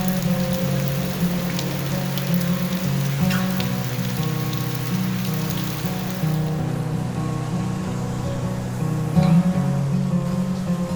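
Monsoon rain falls steadily in Goa on the road near Aguada Fort, a continuous even hiss of drops on surfaces with a low droning hum running underneath throughout.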